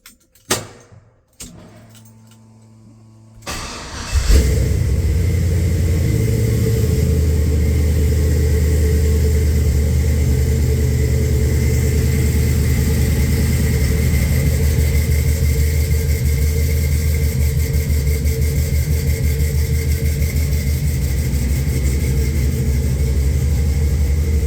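Keys jangle, then the 5.3 V8 in a 1984 Chevrolet C10 truck with Flowmaster exhaust cranks and fires up with a deep, rumbling note, settling into a loud, steady idle.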